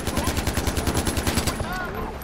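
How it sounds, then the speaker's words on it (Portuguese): Automatic gunfire during an outpost assault in the video game Far Cry 4 rattles in a fast, evenly spaced burst of loud, close shots lasting well over a second, with game sounds and a voice underneath before it stops. "Quando o cara tá longe, tem que ser na base do tiro."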